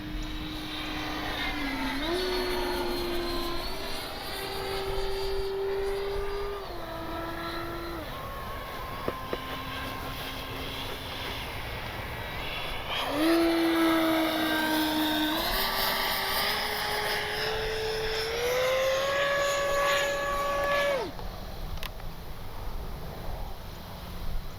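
A Kavan Skyfox L-39 RC jet with an outrunner motor flies snap rolls, its whining electric drive rising and falling in pitch as it passes, loud and steady throughout with a surge midway.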